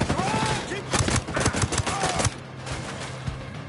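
Rapid bursts of gunfire in the video game Ghost Recon Breakpoint, a loud close volley of shots for about two seconds that then tapers into quieter background noise.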